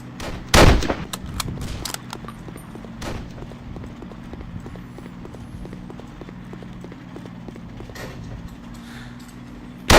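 Gunfire in the WW2 Online video game, a loud burst of shots near the start followed by a long run of rapid, evenly spaced reports with a few sharper cracks, steady and close throughout.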